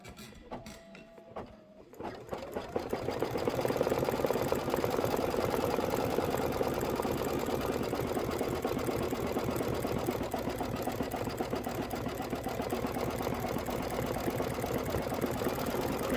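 A sewing machine back-stitches on a Kimberbell Halloween witch-hat pillow, a steady, fast, continuous mechanical whir with a dense stitching rattle after a quiet start with a few faint clicks.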